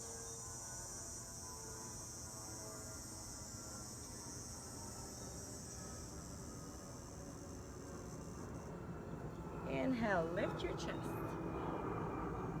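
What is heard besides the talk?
airplane flying overhead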